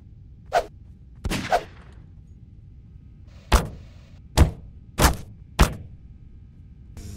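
Gunfire in the video game Murder goes off as sharp isolated shots, a couple early and a quick burst of four near the end, separated by quiet gaps, with no talk.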